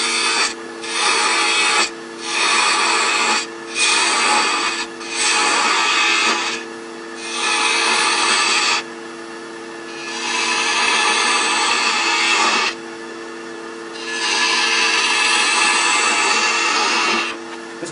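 A wood lathe spins an awl handle as a spindle turning tool cuts it, giving a loud, sustained whirring rasp that swells and drops in repeated passes of a few seconds each, with brief pauses between cuts.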